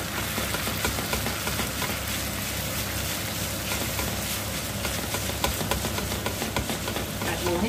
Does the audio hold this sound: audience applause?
no